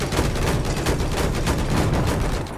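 Sustained, dense gunfire fills a multiplayer shooter match in a beach setting, a continuous loud volley of overlapping shots with no break.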